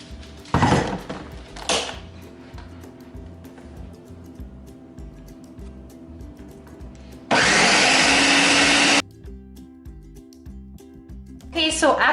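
A kitchen blender whirs through a coconut flan mixture in a few short pulses, then one loud sustained burst of about two seconds, and starts again at the end, with quieter kitchen clatter between.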